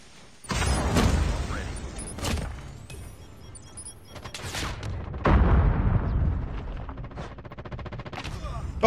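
Gunfire in a ranked shooter match with a PP Bizon submachine gun, several loud close bursts and single shots separated by quieter gaps, with a player's voice talking in between.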